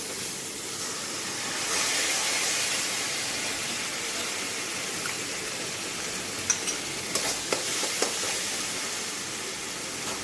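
Raisins frying with poppy seed and cashew paste in hot oil, giving a steady, even hiss and sizzle with a few small taps of a spoon near the end.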